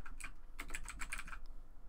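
Rapid keystrokes on a computer keyboard while entering a plugin name into a Grav CMS admin page, a close burst of clicky taps in an uneven rhythm with a brief pause before a last few presses, no speech.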